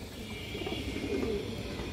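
Domestic pigeons in a loft coo softly, a low murmuring coo rising briefly in the middle over a quiet constant background hum.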